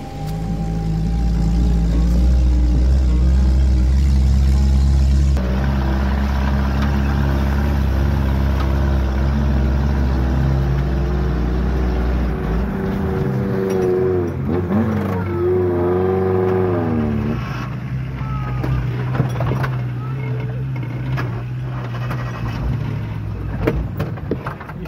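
A Suzuki Jimny engine runs loud and steady during an off-road outing, with a deep rumble that drops in pitch partway through and then settles into a rougher, uneven idle as the engine falters, with no voices.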